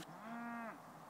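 A cow lets out a single clear, drawn-out moo lasting under a second, with a rising then falling tone, heard fairly close over a steady background hum.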